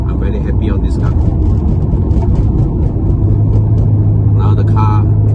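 A refurbished Ferrari F355 sports car drives along with a steady low engine rumble while someone talks over it throughout.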